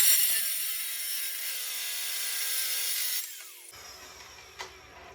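A vertical or portable bandsaw cuts through a metal part for a scratch-built mini Jeep in a garage, giving a steady, loud high-pitched whine for about three seconds before the blade winds down and quieter shop noise follows.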